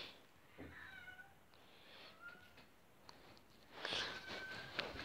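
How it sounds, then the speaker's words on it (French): A domestic cat meows indoors, several drawn-out, wavering cries spread across the moment and growing louder toward the end, heard over faint room noise with no talking. "c'est mon chat qui gueule"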